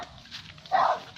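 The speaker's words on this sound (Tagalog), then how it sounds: "may narinig na tayong tumatawal na aso" A dog at a house gives one sharp bark at mid distance, rising out of quiet outdoor background.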